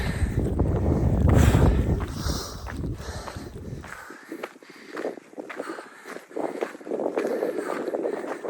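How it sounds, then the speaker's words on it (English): Strong wind sweeps across open hills in heavy, rumbling gusts that buffet the microphone loudly at first, then ease to a lighter rushing hiss with intermittent gusts and faint rustling. "Lots of wind, lots and lots of it. It sweeps these hills all year round."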